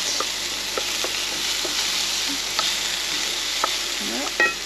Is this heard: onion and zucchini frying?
yes